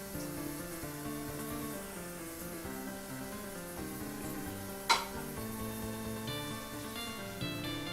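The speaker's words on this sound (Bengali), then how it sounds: "রসুনগুলো একটু বাদামি হয়ে যাওয়া পর্যন্ত আমরা এটাকে ভাজতে থাকবো।" Garlic frying with ground mustard in a pan for raw banana peel chutney, a steady close hiss and sizzle with a brief sharp scrape or clink partway through.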